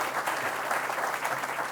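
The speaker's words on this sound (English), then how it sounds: "Let's give him a round of applause." An audience applauds at a university athletics groundbreaking event, a dense, steady burst of clapping from a crowd heard throughout.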